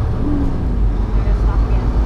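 A semi truck descends a steep 9% grade, its deep, heavy engine rumble and road noise steady and loud from inside the cab, with talking heard over it.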